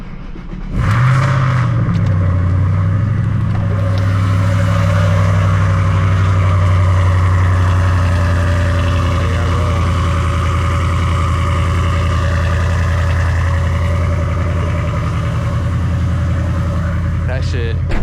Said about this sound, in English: That shit is insanely loud, but we're gonna let it idle down a little bit